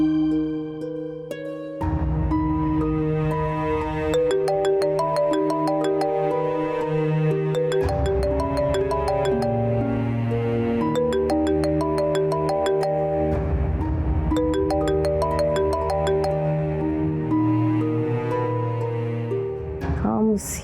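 A mobile phone ringtone plays as a loud, continuous melodic tune of repeating notes with bright chiming accents, running for about eighteen seconds before cutting off near the end.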